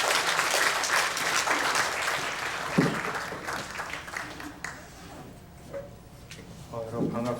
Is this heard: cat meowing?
no